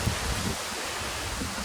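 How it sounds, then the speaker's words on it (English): Wind gusts through an English back yard garden in mid-September beneath an oak tree, a soft broadband rush with low buffeting rumble, fairly faint and steady over a short span. "Quite windy today."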